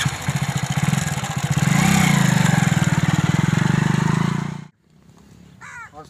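Motorcycle engine running steadily and loud for about four and a half seconds, with a faint rising revving pulse, then cutting off abruptly into near silence with faint background sounds.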